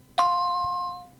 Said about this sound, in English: Immediately after the cueing chime